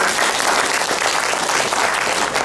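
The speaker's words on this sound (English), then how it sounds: "Big round of applause." A workshop audience gives a round of applause, a dense, loud wash of many hands clapping steadily throughout, with no speech over it.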